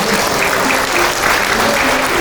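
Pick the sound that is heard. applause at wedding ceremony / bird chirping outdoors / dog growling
applause at wedding ceremony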